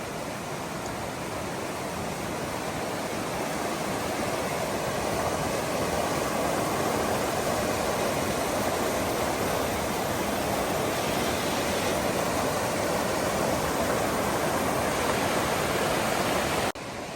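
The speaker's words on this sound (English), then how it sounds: "This creek is really beautiful." A creek along a Great Smoky Mountains trail rushes steadily, a dense, continuous broadband roar of flowing water heard close and loud with no voices.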